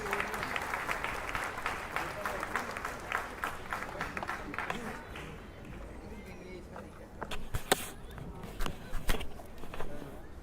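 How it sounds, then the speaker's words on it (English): An audience at a school annual day celebration at B. K. Birla Public School claps to welcome a guest, a steady patter of applause that thins out before scattered louder claps, with speech over it. "Let us welcome sir with a huge round of applause."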